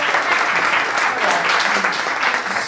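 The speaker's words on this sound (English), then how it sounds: "give her a round of applause" An audience at an Idyllwild Arts talk claps steadily and loudly throughout, a dense wash of applause with no pauses.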